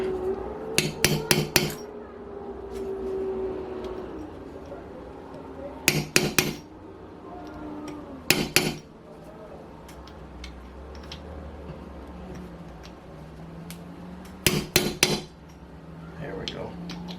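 Metal punch struck by a hammer to seat a bearing in an Enya 46-4C model engine, in separate bursts of three or four sharp, close taps with quiet pauses between.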